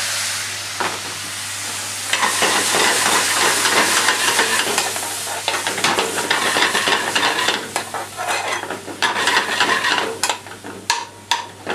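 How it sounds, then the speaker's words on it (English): Fresh tomato tipped into a pan of frying onions for a butter chicken base, giving a loud, close sizzle and hiss with stirring and scraping clatter throughout, no voices. "Now once you've sort of cooked those just for a minute or 2, in with your fresh tomato."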